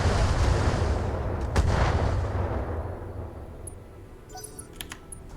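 Mech weapons in the modded Battletech game fire in a booming salvo, with one heavy blast standing out, then a long rumbling decay that fades into quieter beeps and small interface clicks.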